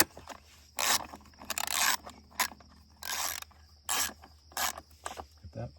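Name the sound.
tightening 10mm bolt on Honda CRF250F battery strap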